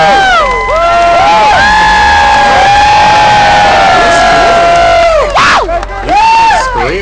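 A convention panel audience screams and cheers loudly, with many high voices whooping in overlapping, sustained shrieks that dip briefly and then surge again.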